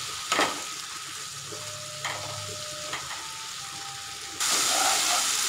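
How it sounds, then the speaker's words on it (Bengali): Ground spices with a spoonful of water cook in a pan for a Bengali fish curry with potato and pointed gourd. A soft steady sizzle runs under occasional spoon scrapes, and a louder burst of hissing comes near the end. "মশলাগুলো আমি ভালো করে আস্তে আস্তে কষিয়ে নেব।"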